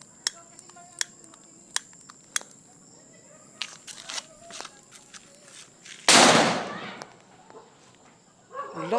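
Regular Phoenix 3 star firecrackers set off in a test firing: a series of sharp, separate cracks, then one loud crackling burst with a broadband hiss, and voices talk nearby afterward.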